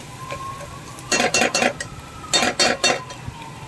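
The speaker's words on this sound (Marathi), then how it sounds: "आणि छान कांद्यावर ते कांदा बटाटा आपण परतवतो." Onion and potato are stirred and sautéed in a pan with chili powder, garam masala and coriander-cumin powder. Two close clusters of quick scraping, clinking spoon strokes sit over a faint background sizzle.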